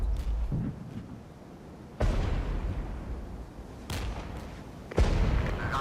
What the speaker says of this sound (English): DPICM artillery is usually good for just softening up the enemy before you attack them